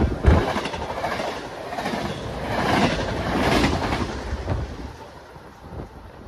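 A train passes through Readville station with a heavy, rumbling roar and faint wheel clatter. It swells to its loudest midway, then slowly fades, with no voices over it.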